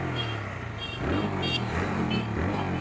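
A TVS Raider 125cc motorcycle engine starts and settles into a steady idle, then rises a little as the throttle opens, heard fairly close.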